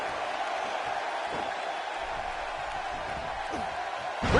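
Arena crowd in the WWE 2K17 wrestling video game, a sustained roar of cheering held at a steady level with a brief swell at the end.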